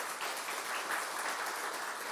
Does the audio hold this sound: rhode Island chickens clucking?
no